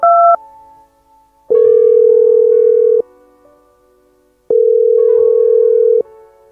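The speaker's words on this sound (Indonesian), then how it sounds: "maka Oma yang sudah menemukan HP-nya mulai menelpon anaknya" A mobile phone placing a call gives two long steady ringback tones separated by a pause of silence, with a short higher tone pair right at the start; clean, loud and close with no voices.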